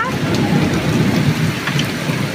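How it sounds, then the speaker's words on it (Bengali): Heavy hailstorm with rain and thunder: a dense, steady roar of rain and pattering ice on surfaces with a low rumbling bed, continuous and loud, with a few sharper impacts standing out. "কত শিল পড়ছে, এত বড় বড় শিল।"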